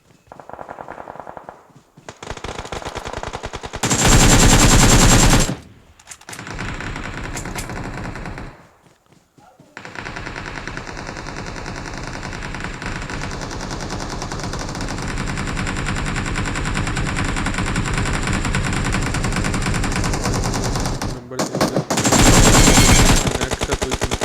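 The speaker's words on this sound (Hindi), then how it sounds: "फायर पे फायर हो रहा है।" Machine gun fire in the battle royale game PUBG: loud rapid bursts that start and stop across the clip, broken by short quiet gaps, then a long sustained stretch of gunfire with a final loud burst near the end.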